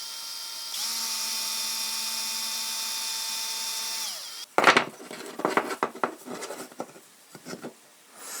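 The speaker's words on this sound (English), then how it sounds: "So I'm going to go back and drill that out a little bit." A power drill whirs steadily for a few seconds, winds down, then scraping and knocking sounds follow as the bit works a hole in a vintage Eurorack suitcase.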